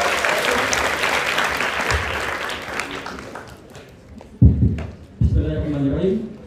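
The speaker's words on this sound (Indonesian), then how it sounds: "Yuk, kasih tepuk tangan buat Yusuf." Audience of university students applauding a student at a discussion event in Solo, a dense burst of clapping that fades out, then a few scattered louder claps and a voice starting to speak.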